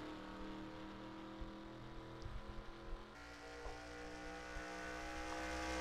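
Race cars roar together in a NASCAR video game at the start of a figure-8 restrictor plate race on the Eight Bowl track, a dense steady engine drone with a shift partway through and rising toward the end.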